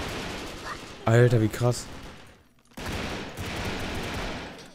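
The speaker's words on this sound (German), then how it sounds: "Mit Dreierschuss ist die Waffe ja viel stärker, als ich es in Erinnerung hatte" Three-round burst fire from a weapon in the blocky online shooter Brick Force: loud, rapid gunfire clatters in bursts before and after a short break, with a man briefly exclaiming over the shots.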